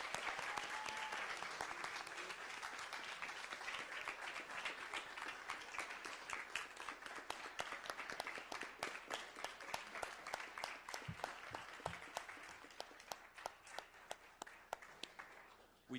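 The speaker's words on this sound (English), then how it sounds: "Let's give him a round of applause." Applause from an audience at a city council meeting: a dense, steady round of many hands clapping that carries on for the whole stretch, moderately distant and gradually thinning toward the end.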